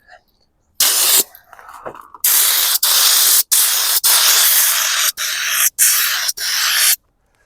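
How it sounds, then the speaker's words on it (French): A Raptor spray gun sprays bed liner coating on a Suzuki Samurai, loud close hissing bursts cut by short pauses, about half a dozen blasts in a row. "j'ai serré ma bouteille sur le pistolet Raptor"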